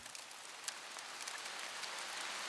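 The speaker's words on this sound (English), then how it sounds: "Sounds like rain. Gentle, relaxing rain." Steady, gentle rain in a Roblox game patters with a soft hiss and scattered drop ticks, continuous and calm throughout with no voices.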